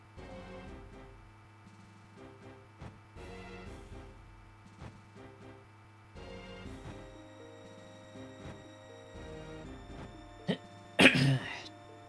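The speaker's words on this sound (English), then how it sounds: "I had to clear my throat, sorry about that." One sharp, loud throat clear bursts out near the end of a fairly quiet stretch, over soft background game music.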